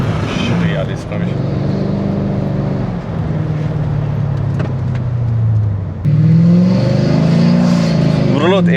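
A V8 Mercedes E500 W211 accelerates hard, its engine drone rising steadily and surging louder near the end, heard from inside the car with people talking over it.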